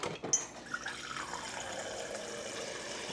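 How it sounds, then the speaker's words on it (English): Water runs steadily through a newly installed Whirlpool refrigerator water filter, dispensed from the fridge after the freezer door is closed. It makes a continuous, moderately loud pouring hiss after a couple of brief clicks at the start, with no talk. "we need to start running a lot of water through it"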